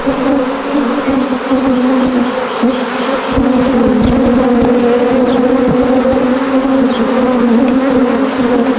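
A loud, steady drone of many honey bees buzzing right beside a bee box on a farm, a dense continuous hum filling the whole stretch with occasional closer passes.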